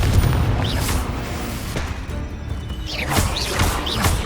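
Confringo spell explosions go off in the video game Hogwarts Legacy as a series of loud booming crashes, some at the start and more toward the end, over a dense rumbling battle background.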